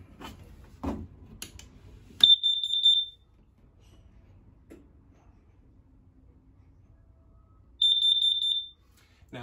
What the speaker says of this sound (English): you have your CO2 and propane 2-in-1 detector. If this thing starts going off, they say, exit the camper